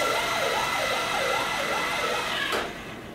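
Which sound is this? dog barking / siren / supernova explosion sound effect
siren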